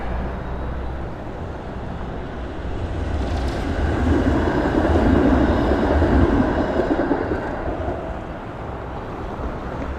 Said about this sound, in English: Here comes a 512 Spadina streetcar.